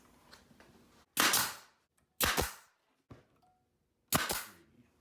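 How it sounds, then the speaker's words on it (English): A brad nailer drives nails to join the bottom to the sides of a wooden letter board frame, giving three loud, sharp, close-up shots and a fainter fourth, spaced roughly a second apart with quiet in between and no talking. "I'm going to use my brad nailer now to attach my bottom to my sides"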